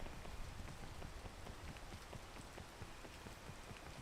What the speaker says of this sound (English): Of course, the minute I get down here, rain.